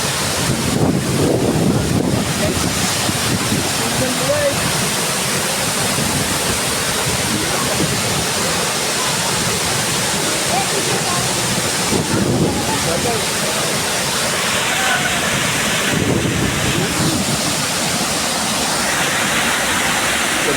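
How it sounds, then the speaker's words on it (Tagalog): Strong rushing water from a powerful waterfall or torrent roars loud and continuous throughout, a dense broadband wash with wind buffeting the microphone, while people speak excitedly over it. "Ang lakas ng tubig, guys."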